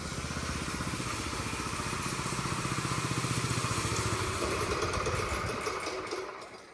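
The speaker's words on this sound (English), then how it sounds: "I power troweling this thing. Getting it all smoothed out the rest of the way." A gas-engine power trowel smooths a freshly poured concrete hangar floor, its engine chugging in a steady rapid pulse at moderate distance before fading out toward the end.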